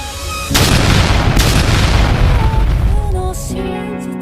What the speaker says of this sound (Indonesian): Ledakan itu menggemparkan semuanya.